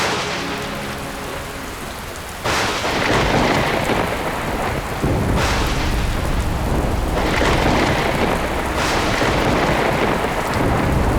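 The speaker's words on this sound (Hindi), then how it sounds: "ये वर्षा तो रुकने का नाम ही नहीं ले रही।" Heavy rain pours steadily in a dense, loud wash, and several deep rolls of thunder swell in at intervals. No one speaks.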